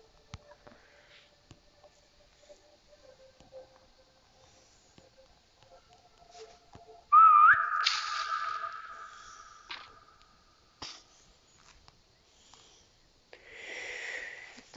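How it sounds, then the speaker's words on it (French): A player character whistles in the horror survival game 3008, one bright rising whistle ringing out clearly against a quiet background, followed by faint shuffling and a brief hiss near the end. "je resiffle là pour savoir si il y a des choses proches"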